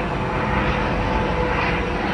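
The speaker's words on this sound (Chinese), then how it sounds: "有一个直升飞机。" A helicopter passes over a large ship berthing in windy weather in the Netherlands, its engine a loud, steady droning roar that fills the short moment.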